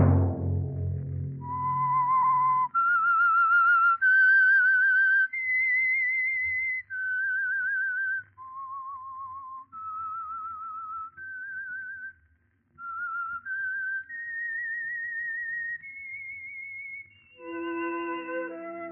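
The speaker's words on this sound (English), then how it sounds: "Let that whistle be your signal for the Signal Oil program, The Whistler" A lone performer whistles the signature theme of an old radio drama called The Whistler, a slow and eerie melody of clear, sustained notes. It rises and falls across several phrases after a brief opening burst of noise.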